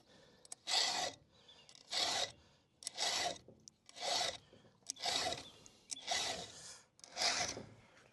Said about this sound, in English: Get that all sharpened up.